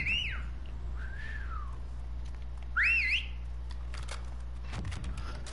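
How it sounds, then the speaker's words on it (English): A person whistles a few short rising and falling notes in a game setting, with quiet clicks and background hum, no talking. "Nah, it's you whistling."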